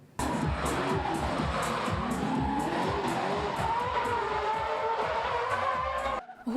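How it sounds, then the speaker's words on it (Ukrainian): Drift cars competing on a specially prepared closed street track at a drifting championship: engines roar and rev hard while tires squeal and skid continuously, loud and close, with the noise cutting off abruptly at the end. "Гуркіт моторів, дим від шин і море драйву на спеціально облаштованій трасі"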